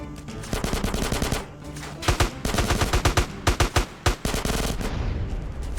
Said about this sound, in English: If you start shooting it, the van will strangely lift off the ground and spin around like this.